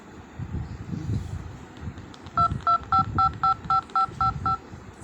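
A telephone number is dialed with a rapid run of about nine short touch-tone beeps in an even rhythm, clear and close, over faint background rumble.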